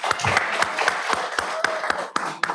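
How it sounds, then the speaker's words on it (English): Veterans at a Golden Age and Wheelchair Games awards ceremony applaud themselves, with close, distinct claps in a loose rhythm, some hands louder than others, over a light murmur of the gathered crowd. "So give yourselves a round of applause."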